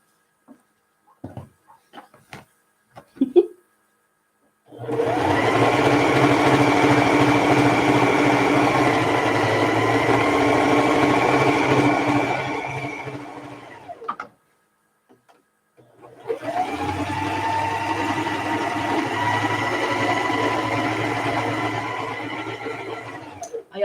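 A sewing machine hums in two long, steady runs while chain piecing quilt blocks for a Dear Jane quilt, with a brief pause and a few clicks between them.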